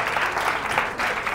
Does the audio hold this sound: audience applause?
yes